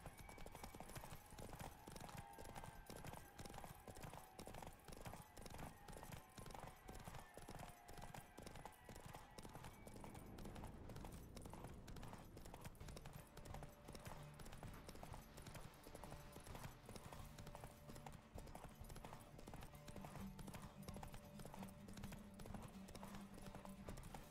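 Roach, the horse in The Witcher 3, gallops during a race, its hooves pounding in a fast, steady clip-clop rhythm that carries through the whole stretch, with faint game music and effects beneath.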